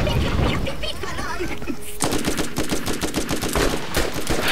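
Gunfire in the video game Borderlands, with bursts of rapid shots followed by a denser run of repeated automatic fire, loud and close, with a voice briefly heard among it.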